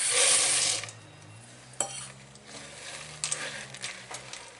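Marshmallow fluff and peanut butter being folded into a thick cake mixture: soft sticky scraping and stirring strokes, close and fairly quiet, with an occasional knock of the utensil against the bowl.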